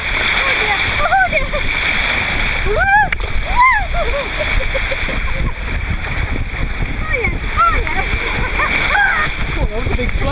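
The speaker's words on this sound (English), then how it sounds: "that was a big splash" Water crashes and sprays in a big splash on a water park ride at Blizzard Beach, a continuous loud wash of churning water with excited shouts and voices over it.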